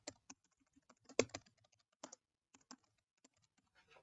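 Typing on a computer keyboard, sparse close key clicks in irregular short bursts with pauses between, faint and with no talking.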